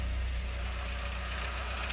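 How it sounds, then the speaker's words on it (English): A car engine with idle speed control idles at roughly 750 to 800 rpm, a steady, even hum close by with no talk over it. "Fires right up, and we're idling about 750, 800, I think."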